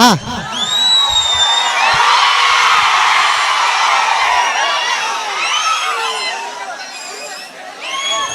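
A crowd at a lively gathering cheering, whooping and shrilly whistling, loud and sustained with rising and falling whistles over a dense roar of voices and shouts.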